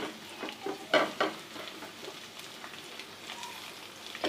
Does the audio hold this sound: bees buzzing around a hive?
no